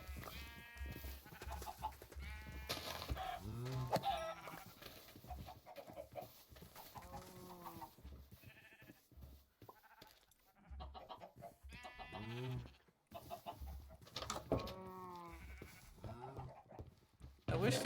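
Blocky Minecraft sheep let out repeated wavering bleats, mixed with clucking, while a person talks over them almost throughout.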